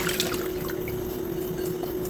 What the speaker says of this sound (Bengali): চিড়েগুলোকে 2 থেকে 3 বার ভালো করে জল পাল্টে ধুয়ে নেবেন।